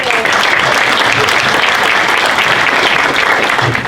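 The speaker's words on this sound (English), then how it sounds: "get a hand clap to Nicole" Loud, dense applause fills the room at a Prince William Chamber of Commerce awards celebration honoring Hispanic business leaders, with many hands clapping steadily and without a break for several seconds.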